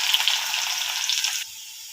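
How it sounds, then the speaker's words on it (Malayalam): Mustard seeds and crushed garlic hit hot oil with a loud, bright crackling sizzle and faint pops, which cut off abruptly partway through and leave a softer hiss. "ചൂടായിട്ട് നമുക്ക് കടുക് ഇട്ട് കൊടുക്കാം."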